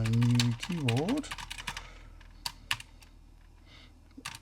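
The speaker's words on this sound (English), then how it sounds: "Test on my new keyboard." Rapid keystrokes clatter on a new mechanical keyboard built for a Cambridge Z88 computer, a brisk run of sharp clicks that follows a brief stretch of someone speaking.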